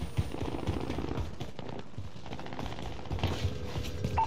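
Gunfire in Call of Duty Warzone, a quiet, continuous crackle of distant automatic shots and scattered single reports over a low battlefield rumble.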